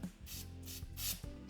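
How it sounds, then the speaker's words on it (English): Spray bottle misting activator onto the underside of a wood knot filled with CA glue, a few short hissing spritzes in quick succession, close and fairly quiet. "Spray that in case there was any glue that came through the bottom."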